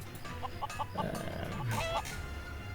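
Chickens in the video game Craft The World cluck in a quick run of short, bright, evenly spaced notes followed by a second burst. The calls sit over a faint background bed of game sound, with no voices.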